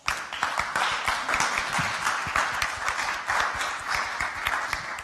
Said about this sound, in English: please give Trina a round of applause